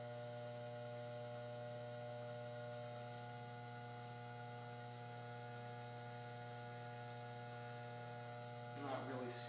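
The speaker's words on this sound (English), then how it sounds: "It is pumping air, and quite a lot of it." A circa 1959 Star aquarium air pump runs with a steady electric hum and drone throughout, faint and constant. A brief rustle sounds near the end.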